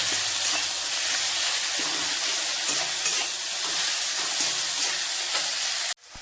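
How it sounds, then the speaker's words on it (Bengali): Chopped onion, tomato, ginger and garlic sizzle loudly in a pan, with a steady bright crackle and a few stirring scrapes. The sound cuts off abruptly near the end. "আদা পেঁয়াজ টমেটো সবটা ভালো করে ভাজা ভাজা হয়ে গেছে"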